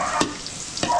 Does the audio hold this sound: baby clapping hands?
no